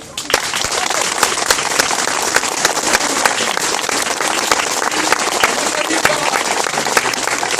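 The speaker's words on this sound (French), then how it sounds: "l'applaudissement de l'amitié et de la passion" Applause for parachutists from an outdoor audience, dense steady clapping that carries on throughout at a fairly close, loud level.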